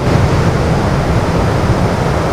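Steady surf breaks continuously onto a beach lined with protective cemara (casuarina) trees and an embankment, a loud, dense wash of waves with rumbling low end and wind noise, no voices.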